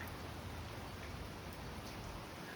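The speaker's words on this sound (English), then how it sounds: "the rain intensity has dropped a little bit" Steady rain pours down during a severe thunderstorm in the northeastern USA, a dense, even hiss of drops on surfaces that fills the whole stretch without pause, with no voices over it.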